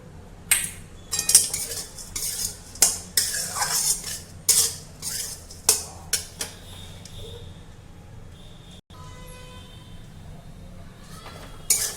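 Peanut chutney being stirred and sautéed in oil in a pan, with a utensil repeatedly scraping and clinking against the metal in an uneven rhythm, close up, followed by a quieter stretch near the end.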